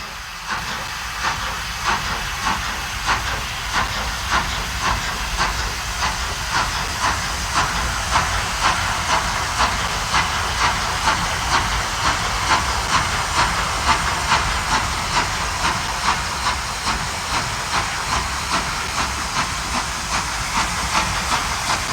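A RENFE Confederación steam locomotive, a big green-liveried engine built by Maquinista in Barcelona in 1956, hisses steam loudly and continuously, with a steady rhythmic chuff pulsing through the hiss.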